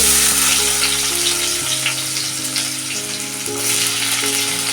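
Chopped onion drops into hot oil for paneer bhurji and sizzles loudly and steadily at close range, a dense crackling fry with no voices over it.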